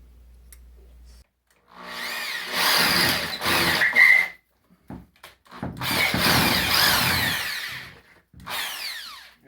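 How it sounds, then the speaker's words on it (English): A power drill with a 10 mm bit whirs in several bursts drilling a hole for a ceiling projector mount, revving up and winding down with short pauses between, loud and close with no talking. "So for the drill bit to drill the hole, I would go with a 10 millimeter."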